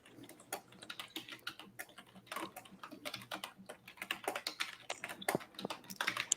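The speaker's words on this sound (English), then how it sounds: "Does it sound like I'm mad typing?" Rapid, uneven clatter of computer keyboard typing, close by and fairly quiet, with bursts of keystrokes and short pauses.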